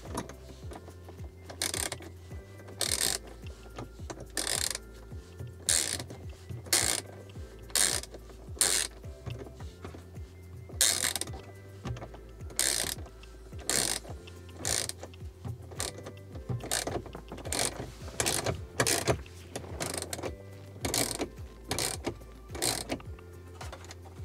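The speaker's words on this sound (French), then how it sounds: "Je vais avoir un petit peu plus d'espace en dévissant ça." A ratchet clicks in repeated bursts while unscrewing bolts in a Tesla Model 3/Y during mounting of a Hansshow swivel screen, close and sharp, with pauses between sets of strokes.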